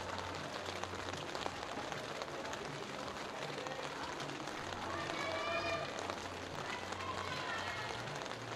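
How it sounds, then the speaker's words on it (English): A crowd at a youth bouldering world championship in Innsbruck cheers and urges on a climber, a steady roar of shouting with higher whoops and calls rising in the second half. "Hannah Slaney getting some big encouragement from the crowd"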